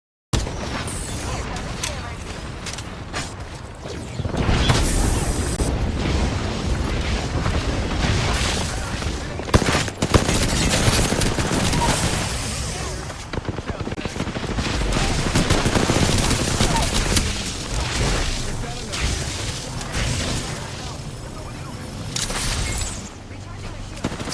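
Gunfire in an Apex Legends-style match aimed at shooting down Wattson's fence generator: loud bursts of rapid automatic shots with intermittent heavier booms, under a person talking over the action.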